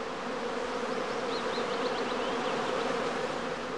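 A prime swarm of honey bees at a skep hive on a bee farm makes a dense, steady buzzing drone, loud and unbroken, with occasional individual bees whining past nearby.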